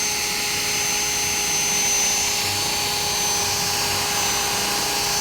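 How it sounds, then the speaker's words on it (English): A cordless drill spinning a buff ball polishing rusty chrome, a loud continuous whirring drone with steady high tonal whine, holding constant for the whole stretch with no talk. "I'm going to use the buff ball in here."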